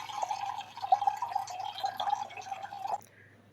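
Water runs into a large bowl for about three seconds as a steady bubbling, splashing trickle close by, then stops abruptly.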